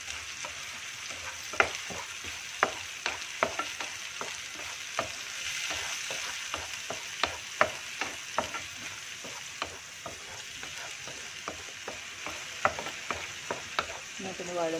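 Onion, green chili, garlic and tomato sautéing in a pan for a coconut-free red cowpea curry, a constant soft sizzle broken by frequent sharp scrapes and taps of a spoon stirring, close and without speech.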